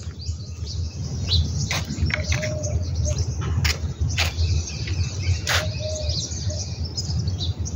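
Several sharp chirps and tweets ring out irregularly from nearby birds over a rustling, low background rumble.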